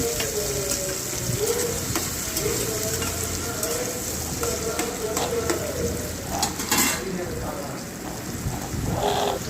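Carrot pieces stir-fry in a hot curry-leaf tempering, giving a steady close sizzle with occasional stirring scrapes throughout.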